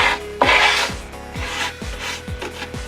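Body filler on a subwoofer cabinet is sanded by hand, heard as repeated close raspy strokes in a steady back-and-forth rhythm, about six passes.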